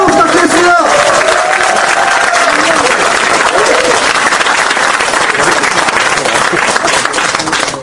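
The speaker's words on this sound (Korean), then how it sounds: "힘찬 박수 부탁드리겠습니다." Lecture hall audience applauding the arrival of a guest speaker, loud dense clapping that fills the whole stretch and fades slightly toward the end, with voices mixed in.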